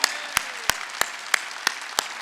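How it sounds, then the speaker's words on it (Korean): Church congregation clapping in unison at a Sunday worship service, seven sharp, loud, evenly spaced claps about a third of a second apart, with a faint voice under the rhythm. "박수 세게 치라고"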